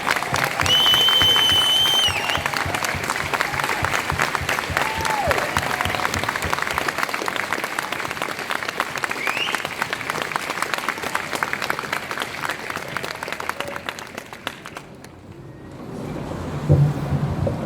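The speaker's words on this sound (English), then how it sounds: "a round of applause for the Deen Riders for causing a big stir in London today for us" A crowd applauds steadily for a long stretch after a silent walk in London, dense clapping that fades out near the end, with a brief whistle early on.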